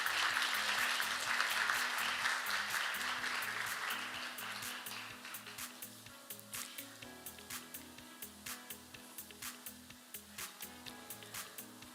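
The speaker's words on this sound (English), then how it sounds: "Please welcome him with warm round of applause." Conference audience at the 2024 International IP Court Conference applauding as the Supreme Court Chief Justice enters, a full burst of clapping that fades into faint scattered claps over a steady rhythmic background beat.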